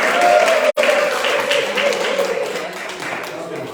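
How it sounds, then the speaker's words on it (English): Audience clapping for two competing teams at a morning retreat program, a loud burst of applause with one abrupt break early on, then continuing and slowly thinning toward the end. "Big clap for Team 1 and"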